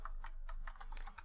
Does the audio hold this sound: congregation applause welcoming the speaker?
no